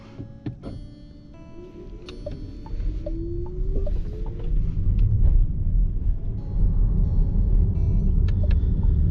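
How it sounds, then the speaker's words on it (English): A 2024 Renault Megane E-Tech electric car on the move, with a low steady road rumble and hum that builds and then holds, plus faint ticks and a rising whine, with no talking. "Driving the 2024 Megane-e."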